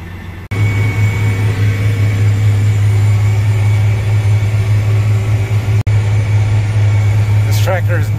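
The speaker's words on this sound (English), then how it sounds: "This tractor is not lacking for power." A large farm tractor engine drones loud and steady while pulling a disc, a deep constant rumble with a slight whine on top that runs unbroken from start to finish.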